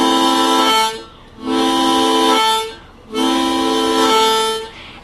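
Harmonica in harmonic minor tuning, played in three sustained, reedy chord blasts with a tongue-slap pattern on the low holes, each roughly a second long with short gaps between.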